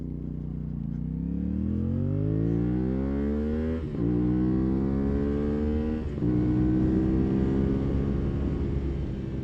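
A CFMOTO 450SS motorcycle ridden hard, its engine revving up through rising pitch, dropping briefly at two gear shifts near four and six seconds, then pulling again; loud and steady throughout, with no voices.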